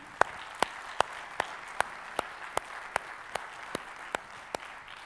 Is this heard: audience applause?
yes